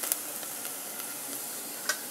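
Green chillies and spice powders frying in a pan with a steady, faint sizzle and a couple of light ticks, no voices.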